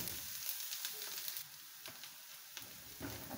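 Onions and cumin seeds fry together in a pan, giving a steady, close hiss of sizzling oil with a few crackling pops and no voices.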